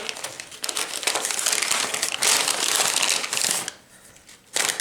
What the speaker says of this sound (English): I'm gonna have to rip it because these are not peel offable